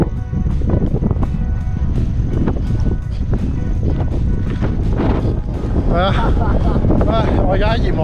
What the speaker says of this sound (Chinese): 好大风啦